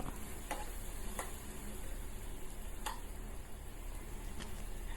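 Greens stir-frying with shrimp paste, chili and garlic make a low, steady sizzle, with a few faint scraping taps of the utensil against the pan; no voices.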